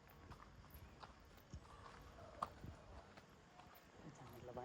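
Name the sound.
horse hooves clip-clopping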